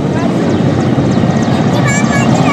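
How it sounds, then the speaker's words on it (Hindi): A small aircraft takes off from an airfield at Khetri, a loud continuous engine and propeller roar running throughout, with a person talking over it. "और अब लीजिए तीसरा और अंतिम विमान"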